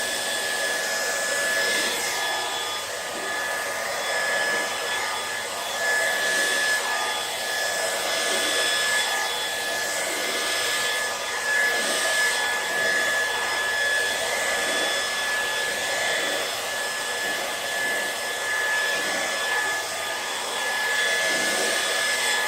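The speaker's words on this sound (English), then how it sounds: "I've got my hairdryer on the cool setting and on the fastest setting as well." A hairdryer running on its cool, fastest setting blows a steady, loud whooshing roar that holds the same level throughout, with nothing else heard.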